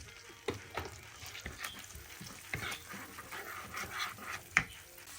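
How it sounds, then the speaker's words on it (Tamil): Chopped garlic sautés in a pan for a vegetable stew, a faint crackling sizzle broken by repeated soft spoon strokes and scrapes at an uneven rhythm, with one sharper knock near the end. "நாங்கள் அந்த வெட்டி வச்ச அந்த உள்ளியை முதல் இதுக்குள்ளே போட்டு நல்லா ஒரு கோல்டன் கலருக்கு வரும் வரைக்கும் ஒருக்கா நல்லா வதக்கி எடுப்போம்."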